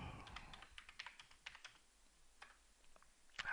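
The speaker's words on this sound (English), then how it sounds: "Simply type in the article" Keys clatter on a computer keyboard in irregular bursts of typing, fairly quiet and close, with a short pause midway and a louder keystroke near the end; no voices.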